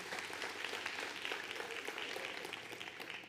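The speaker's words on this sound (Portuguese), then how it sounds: "Dá uma salva de palmas para ela." A lecture audience gives a steady, dense wash of applause that stays faint and distant, then cuts off abruptly at the end.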